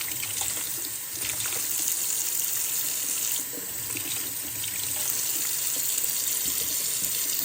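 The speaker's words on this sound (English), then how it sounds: "Okay, let's put some water." Water runs steadily from a tap into an egg cooker, a constant close splashing hiss with a slight dip in flow partway through.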